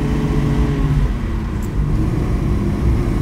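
A 1958 Lancia Aurelia B20 GT sports car driving after standing unused for a long time: a steady, loud mid-pitched engine drone with road rumble, close by and continuous, with no speech.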